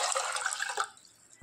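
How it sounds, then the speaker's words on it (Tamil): Water splashes and pours steadily into a cooking pot on a stove for under a second, then stops, leaving a quiet tail. "தண்ணி சேர்த்துக்கோங்க"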